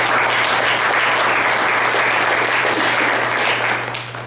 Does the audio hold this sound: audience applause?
yes